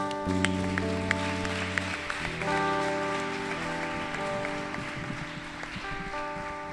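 A church congregation claps along for several seconds while sustained keyboard or organ chords ring out over the noise.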